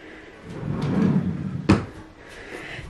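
The top drawer of an IKEA Hemnes chest of drawers in a baby's room slides open with a soft wooden rumble and ends in a sharp knock, followed by light rustling.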